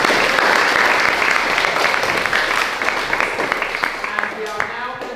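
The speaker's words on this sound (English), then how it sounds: "Can we have a round of applause for Reverend Sarah?" A church congregation applauds Reverend Sarah at a July 2021 leavers service in Charlton Horethorne, giving a dense, lively round of clapping that gradually thins and tapers into a few scattered claps.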